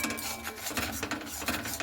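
Spoon scraping and clinking around a mixing bowl while a tomato paste mixture with turmeric, salt and spices is stirred, a steady, close run of soft scrapes and taps with no voices.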